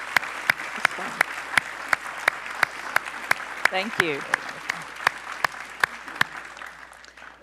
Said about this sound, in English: I'd like, before we close, to give her a round of applause.